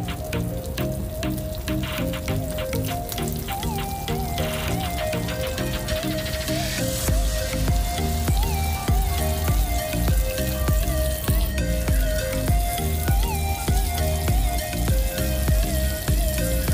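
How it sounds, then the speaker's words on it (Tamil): Pieces of nei meen (seer fish) crackle and hiss steadily while deep frying in hot oil, a continuous dense sizzle with tiny pops, close and moderately loud with no talking. "இதே மாதிரி எல்லா மீன் துண்டுகளையும் 1/2 பீஸா போட்டு பொரிச்சு எடுத்துருங்க"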